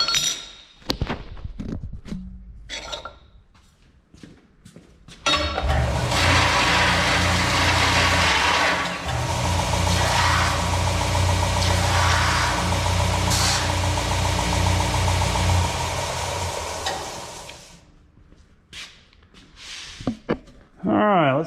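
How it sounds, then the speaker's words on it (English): A bench sander deburring the cut edge of a 1/8 inch steel plate in a workshop: a loud, continuous grinding roar lasting about twelve seconds, with brief talk before and after. "Go over here to the sander and deburr it real quick like."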